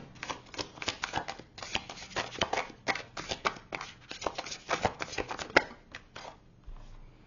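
Tarot cards being shuffled and drawn at close range, a dense run of quick crisp riffling snaps and slaps that continues for several seconds before thinning out, with no talking.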